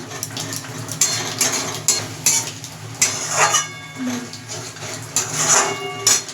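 Chicken rezala is stirred in a metal pot, repeated close spoon scrapes and clanks against the pot in an uneven rhythm over a faint sizzle, without talk.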